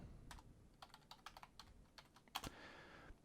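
Soft keystrokes tap on a computer keyboard in a quick irregular run, ending with a firmer double press against faint room hiss.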